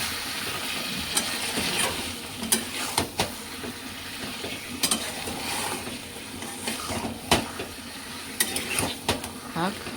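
Prawns fry in a pan under a constant close sizzle while a utensil stirs and scrapes them, giving irregular clinks and knocks throughout.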